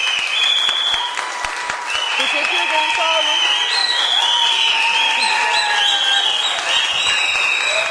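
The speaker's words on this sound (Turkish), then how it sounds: "Bu alkışlar Hatice için olsun" A television studio audience claps loudly and continuously on a Turkish daytime talk show, a dense sustained roar of applause while someone speaks briefly over it.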